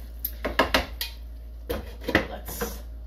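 A spoon stirring spinach tofu curry in a pot, giving a few scattered scrapes and soft clinks against the pot, close and fairly quiet, with no talking.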